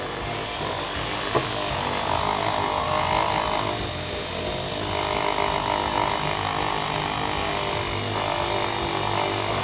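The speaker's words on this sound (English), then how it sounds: "Let the pad spin fast. The faster it spins, the glossier it's going to be." A fast-spinning polishing pad buffs the finish of a Charvel guitar, giving a loud continuous whirring hum with a slight wavering pitch as the pad presses and eases; no talk.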